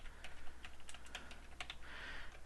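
Quiet, close typing on a computer keyboard, a string of light irregular key clicks with a brief pause, heard alone with no voices.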